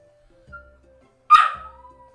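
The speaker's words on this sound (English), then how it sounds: "can you hear this poor dog?" A small dog gives a single sharp yip-like bark, close and loud, after a few faint soft sounds in an otherwise quiet room.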